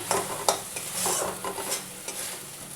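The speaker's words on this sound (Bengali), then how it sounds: "ওই জন্য মশলাটাকে ভালো করে বন্ধুরা কষিয়ে নিলাম।" Spice paste sautéed and stirred in a pan for a potato and egg curry, with steady sizzling frying and repeated scraping strokes of a spoon against the pan, close and fairly loud, no voices.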